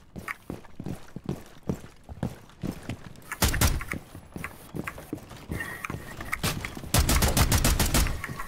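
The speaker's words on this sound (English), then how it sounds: "Shotgun shot didn't kill someone that close." Shotgun blasts and other gunfire in the tactical shooter game Rainbow Six Siege: a string of sharp separate shots, then two dense, loud bursts of fire near the middle and end.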